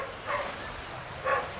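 A dog near a coastal path fortification gives two distant, sharp barks about a second apart, with soft wind noise between.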